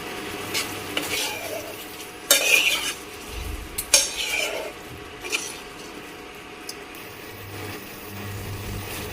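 A utensil stirs fried momos through gravy in a pan, making close scraping sweeps and a few sharp metallic clanks over a low, continuous sizzle.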